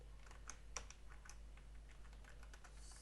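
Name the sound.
typing a database query on a computer keyboard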